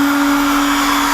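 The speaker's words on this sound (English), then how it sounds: "so now we're going to turn the spindle, the router on" A CNC router spindle running at speed above its workpiece, a loud steady motor whine with a strong constant tone and broad hiss, unbroken for the whole moment with no voices.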